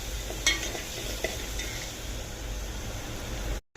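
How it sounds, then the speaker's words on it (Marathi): Green chili and salt paste roasting in oil for a buttermilk kadhi tempering, a steady soft sizzle with a couple of sharp utensil clicks near the start, ending abruptly. "मिरचीचं हिरवं वाटलेलं वाटण, यामध्ये फक्त मिरची आणि मीठ आहे, बाकी काही सुद्धा घातलेलं नाहीये. आणि हे वाटण आपण चांगलं भाजून घेऊयात."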